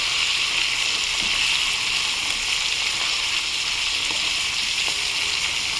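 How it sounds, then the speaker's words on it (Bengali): Steady, loud sizzling of hilsa fish frying in hot oil in a pan, continuous crackle and hiss without pause and no voices. "দেখুন আর এক পিঠ ভাজা হোক"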